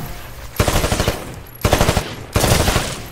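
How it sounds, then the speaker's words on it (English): Automatic weapon fire on a shooting range in the video game Titanfall, three loud bursts of rapid shots separated by brief pauses. "Destroy all of the targets in the shooting range."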